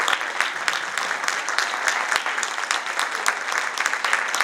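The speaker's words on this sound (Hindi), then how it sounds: "Give them a big round of applause." A large audience claps steadily at an awards felicitation for a newly promoted Crown Ambassador couple, dense continuous applause with no speech over it.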